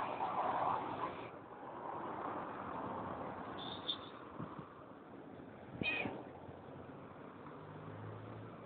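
A cat meows outdoors in a few short, fairly faint calls spaced several seconds apart, over a low background hum of distant traffic.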